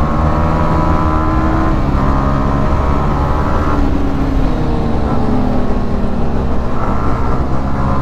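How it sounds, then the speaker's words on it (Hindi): A motorcycle's exhaust note revs loudly and close up, its pitch sweeping up and down through the throttle changes. The engine sounds alone, with no voices over it. "बहुत सही एग्जॉस्ट नोट है हृदय भाई का"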